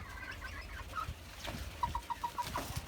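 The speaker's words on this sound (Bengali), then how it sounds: "এই পাশে ঢেকে রাখছি দুইটা টাইগার মুরগিকে" Tiger breed chickens on a rooftop give a short run of quiet, rhythmic clucks that rise toward the end, with faint rustling behind them.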